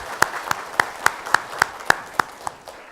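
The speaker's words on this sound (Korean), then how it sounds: "우리 박수로 한번 환영했으면 좋겠습니다." Church congregation gives a short burst of applause during a Sunday service, heard as a series of evenly spaced, distinct claps close by, fading toward the end.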